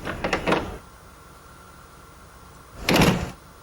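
In the Train Simulator game, a train cab door opens with a short mechanical clatter, and a second sliding clunk follows a few seconds later, both close and clear against a quiet background.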